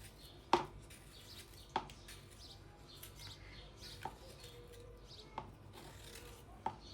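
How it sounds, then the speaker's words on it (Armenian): A pear is peeled by hand with soft scraping rubs, broken by a few sharp clicks at intervals, quiet and close with no talking. "Այժմ տանձը կեղևազրկում ենք"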